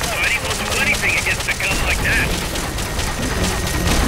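A rocket launcher sniper weapon fires in Metal Gear Solid: Peace Walker amid loud, continuous game combat, with booming blasts and a dense rumble of gunfire and effects.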